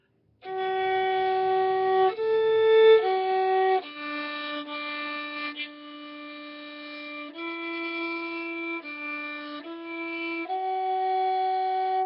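A violin plays the slow, simple melody of Gaily the Troubadour in sustained notes, clear and close, with no voices.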